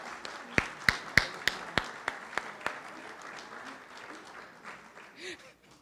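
Applause at a graduation ceremony starts as a few sharp, close, evenly spaced claps that soften into scattered, quieter clapping from the audience, while a voice continues faintly in the background.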